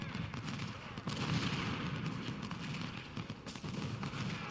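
Massed rifle and artillery fire from troops in Ultimate General: Civil War at the Battle of Antietam, a dense continuous rattle of shots and booms rolling on steadily throughout with no break.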